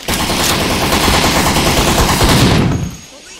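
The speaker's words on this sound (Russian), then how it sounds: "Берем пулемет" Sustained machine gun fire in Postal III, loud and dense with rapid overlapping shots for about two and a half seconds, then cutting off abruptly into a quiet tail.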